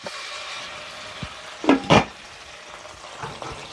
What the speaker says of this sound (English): so we're cooking our garlic here, and we're also going to come in with our chilies